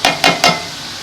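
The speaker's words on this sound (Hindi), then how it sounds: "अभी मैं इसके अंदर डालने लगी हूँ पेस्ट, अदरक, लहसुन, मिर्च और टमाटर और प्याज का" Spice paste of ginger, garlic, chili, tomato and ground onion hits chicken frying in a karahi, giving three quick bursts of sizzling that fade into a steady soft hiss.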